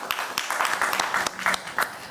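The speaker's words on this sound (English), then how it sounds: "A round of applause for Prof, please." Audience applause at a panel discussion on fighting illegal mining in Ghana: a short, moderate burst of scattered hand claps, with individual claps standing out through the clatter, and no speech over it.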